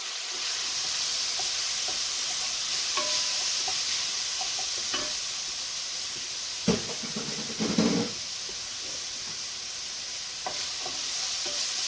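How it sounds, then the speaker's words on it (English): Sun-dried tomatoes, about two tablespoons, frying in oil in a pan for a keto kale dish: a steady close sizzle and hiss throughout, with brief stirring clatters and scrapes near the middle. "Now I'm going to add the sun-dried tomatoes."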